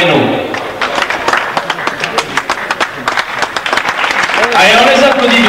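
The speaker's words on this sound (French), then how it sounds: "Allez, on les applaudit bien fort" A crowd claps steadily, building to a dense burst of applause, with a voice speaking over it.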